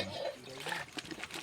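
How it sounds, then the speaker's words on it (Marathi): Water poured in small amounts while cooking for a sujji pav party, a soft steady splashing and trickling that runs through the whole short moment, fairly quiet and close by. "थोडं थोडं पाणी टाका, जास्त नॉर्मल टाक आणि हाताने धुवून घे त्याच्या."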